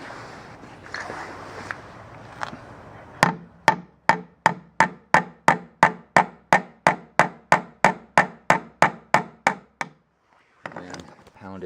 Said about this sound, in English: I'm going to pound it through here with a hammer